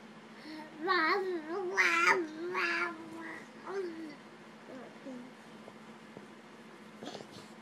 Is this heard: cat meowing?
yes